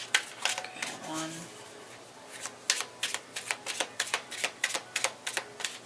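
Tarot cards are shuffled close up in a quiet room, with a run of crisp riffling bursts in a rapid, fairly even rhythm, and a few soft taps before them.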